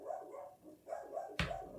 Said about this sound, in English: You don't have to bark at him when he barks like that.